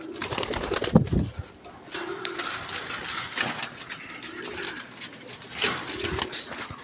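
Racing pigeons coo in repeated low, soft phrases nearby, with rustling, scattered clicks and a faint voice in the background.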